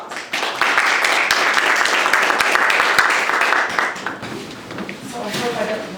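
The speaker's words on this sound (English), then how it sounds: "But let's give her a round of applause." An audience at a quilt exhibition gallery talk claps in a lively round for about four seconds, then the applause thins and a voice begins speaking.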